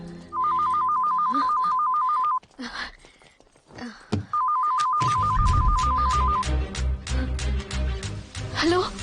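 A phone rings in a tense film car scene, two bursts of a warbling electronic ringtone separated by a pause, then dramatic music and voices take over.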